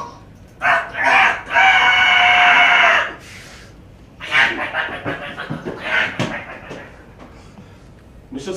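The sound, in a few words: rooster crowing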